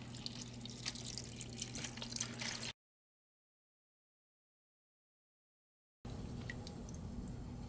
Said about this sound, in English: Pour water in.